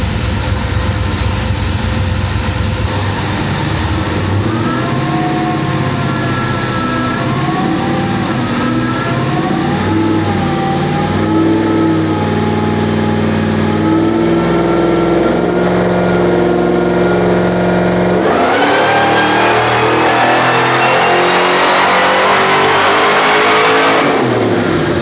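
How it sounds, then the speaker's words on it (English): A 1972 Chevelle with a Nelson engine running on E85 revs hard and loud, its rising and falling engine tone sweeping up and down through steady acceleration, then a sharper, louder surge near the end. "make a few passes to see how much horsepower this Nelson engine can make"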